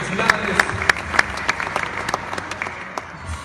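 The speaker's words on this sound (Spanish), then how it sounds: "El aplauso, por favor, para estas personas" Applause at an award ceremony for innovative-product prize recipients, a steady crowd clapping with several sharp, louder claps standing out early on, moderately loud throughout.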